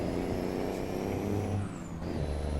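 A heavy Kenworth C500 truck engine in a video game drones steadily, with a low rumbling throb and a rising whine as it pulls along, no voices.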